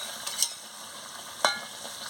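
Potatoes are stirred with spices in a pan for a chicken curry. A faint, steady sizzle runs underneath, and two quick scraping clicks of the spoon stand out, with no talking.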